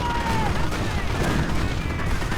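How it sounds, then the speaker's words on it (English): Tank and anti-tank guns fire during a World War II strategy game battle between Shermans and Panthers, producing a dense, continuous barrage of booms and rattling gunfire with a caster talking over it. "Anti-tank gun firing"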